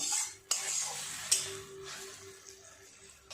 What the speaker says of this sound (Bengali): একটু ভালো করে সমস্ত কিছু এইভাবে নেড়ে নেব।